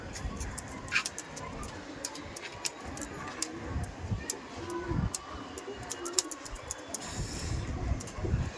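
Pigeons in a loft of Malbai pigeons, soft cooing and scattered wing flutters with sharp clicks and rustles, close by, under faint background voices.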